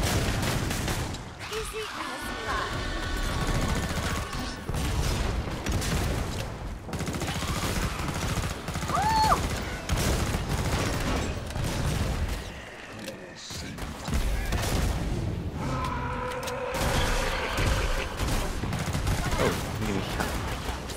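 Rapid gunfire rattles almost without pause in Killing Floor 2, mixing automatic bursts and heavier blasts at a shooting range, with voices talking over the shooting.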